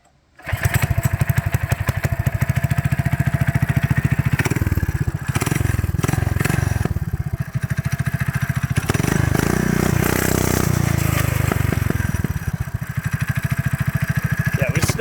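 An SSR 125 dirt bike on full choke, started with a single pull and then idling loudly up close, a rough, rapid single-cylinder putter that holds steady with slight revving.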